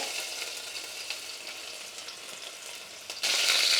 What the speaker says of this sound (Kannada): ಬೆಳ್ಳುಳ್ಳಿ ಹಾಕ್ತಾ ಇದ್ದೀನಿ ಎಣ್ಣೆ ಕಾಯ್ದಿದೆ